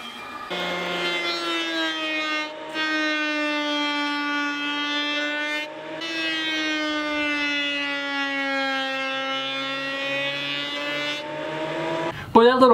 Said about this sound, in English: Boy, that little planer is really getting a major workout on this project